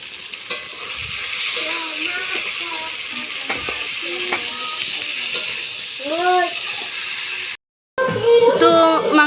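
Meat coated in ginger spice paste frying in hot oil at a picnic, a steady soft sizzle with occasional stirring scrapes, close and continuous while a voice speaks over it.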